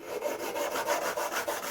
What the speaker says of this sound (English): so you'll be sanding the excess off the bottom